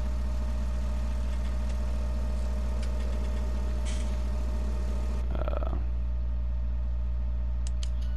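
A Fendt 1050 Vario tractor engine in Farming Simulator 17 idles with a constant low, even hum, and a few faint clicks and a brief mechanical noise occur partway through, with no talk.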